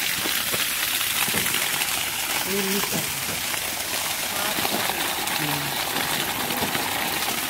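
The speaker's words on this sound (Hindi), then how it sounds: "ये देखिए यहाँ पर पानी आ रहा है ठीक है किस तरीके से पानी दे रहा है आप देख लीजिए" A Texmo 1 HP submersible motor pump running as water gushes out in a steady, loud, continuous rush, with a voice faintly audible beneath it.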